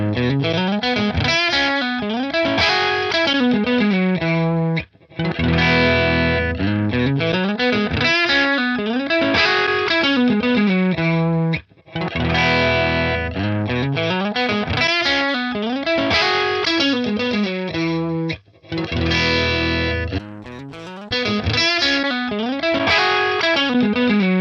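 Looped electric guitar phrase through a Line 6 Helix, repeating several times with brief gaps as the tone shifts between different impulse responses, loud and alone without talking.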